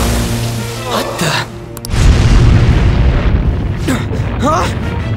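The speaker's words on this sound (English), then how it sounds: "An explosion?" A deep explosion in the video game Persona 5 booms and rumbles, then a long roar follows. Voices speak before and after the blast.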